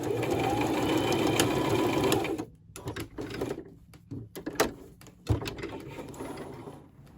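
A sewing machine stitches a fabric face mask with adjustable ear loops, a rapid mechanical whir that runs steadily, then stops and restarts in short bursts with clicks and pauses.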